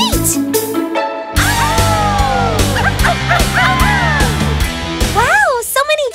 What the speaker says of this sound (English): And who are these two little dogs?